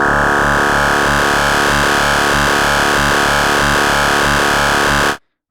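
A Reaktor Blocks DWG oscillator carrier plays alone as a loud, sustained distorted synth drone, a harsh buzzing tone with a steady pulsing modulation pattern that cuts off abruptly at the end.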